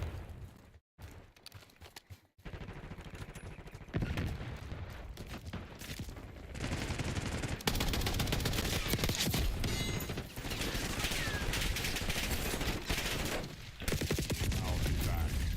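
Rapid bursts of automatic gunfire hammer at a hostile sentry turret in the shooter game Black Ops 6, loud and near, with brief gaps early on before sustained firing takes over.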